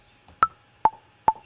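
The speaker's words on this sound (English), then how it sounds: "The metronome makes this clicking sound." Three sharp, evenly spaced metronome clicks, crisp and close, with near silence between them.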